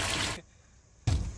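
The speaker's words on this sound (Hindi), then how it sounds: "और ये पानी मारता हुआ ड्राइवर" Water splashes in two loud, close bursts, a rushing spray that cuts out briefly and then surges back, outdoors with no speech.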